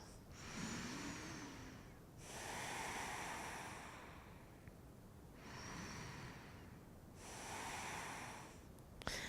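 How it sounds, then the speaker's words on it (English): Slow, deep yoga breathing, long airy inhales and exhales alternating in an even rhythm, close and soft with no talking. "Take a couple of breaths."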